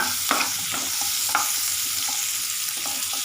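Ingredients for paneer butter masala frying in a pan, an even crackling sizzle punctuated by occasional spoon knocks and scrapes while stirring, near and moderately loud, without any voices.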